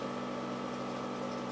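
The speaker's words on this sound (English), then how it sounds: "The noise you hear in the background is the scavenge pump." An electric scavenge pump on a turbocharged 1986 Toyota MR2 runs with a constant, even hum and faint whine, steady and moderately quiet with no variation.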